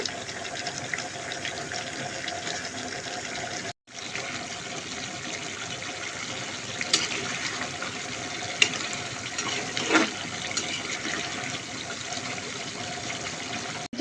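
Water is poured into a simmering liver and potato curry in a home kitchen, making a steady, continuous splashing gush that runs through nearly the whole stretch with only a short break.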